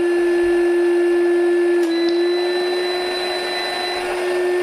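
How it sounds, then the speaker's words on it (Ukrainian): A hair dryer running off a portable power station blows with a steady, loud whirring hum that stays constant throughout, with no voices. "фен не перестав працювати, все працює"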